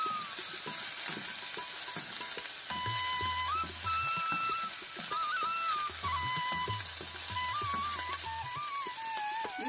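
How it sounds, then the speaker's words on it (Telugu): Corn sizzles steadily in a pan while being fried for cheesy white sauce pasta, with occasional stirring scrapes and faint whistling tones in the background. "ఇవి ఫ్రై అవ్వనియండి."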